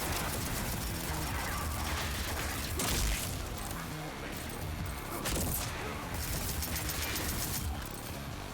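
Gunfire in the shooter Rage 2: a dense, noisy barrage of shots and bangs with a few stronger bursts over a constant, busy wash of game noise, loud and steady throughout.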